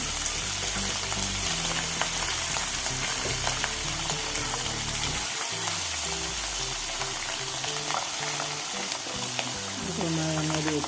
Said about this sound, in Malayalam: വെളിച്ചെണ്ണ ചൂടായി മീൻ ഇട്ട് കൊടുക്കാം